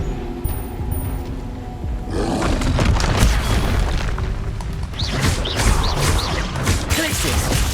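Expelliarmus spell effect in Hogwarts Legacy, a loud booming magical blast that erupts after a quiet start and rolls on with crashing, rumbling layers and bright whooshing flourishes through the rest of the combat moment.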